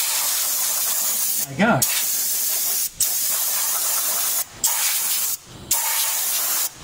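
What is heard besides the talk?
air compressor blowing out oil around spark plug hole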